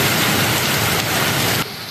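Heavy rain pours down in Taoyuan at night, a dense, loud, steady hiss of downpour filling the whole moment, easing slightly at the very end.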